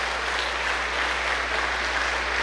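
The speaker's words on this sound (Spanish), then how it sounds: "Un aplauso, pues, para el Padre." An audience in a church broadcast from Belize applauds the priest, a dense, sustained wash of many hands clapping at once, loud and steady throughout.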